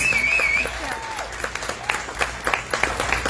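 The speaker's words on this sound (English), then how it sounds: "Give him a nice round of applause." Audience applause for a man called up to speak at an America First Patriots Club evening event in Broward County, a steady wash of clapping that thins into scattered claps over a few seconds.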